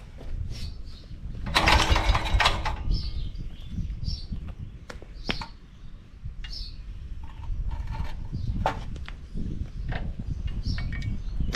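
A Wisconsin engine coupled to a Leland alternator generator turns over and fires, then runs with a loud, close, uneven mechanical clatter and bursts of rattling.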